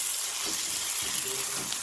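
Onions and tomatoes fry in a pot for daal, giving a steady broadband sizzle with soft, faint bubbling and a few brief tonal clicks from the pan.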